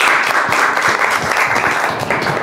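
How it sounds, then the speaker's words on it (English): Steady applause from an audience at a ranking announcement, dense continuous clapping filling the whole stretch at a fairly loud, even level. "Can we all please clap for them?"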